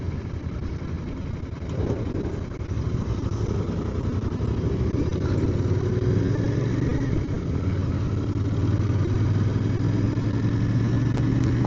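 Cars and motorcycles slow down on a road near the Manpur bridge, a close, loud, steady rumble of idling and low-revving engines with some clatter, holding continuously and swelling slightly as the traffic bunches up.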